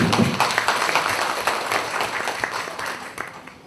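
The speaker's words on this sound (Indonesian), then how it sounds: "Saya minta tepuk tangannya untuk Dinas Koperasi." An audience at a knitting skills training event in Tulungagung claps steadily, a dense burst of applause that fades off toward the end with no talk.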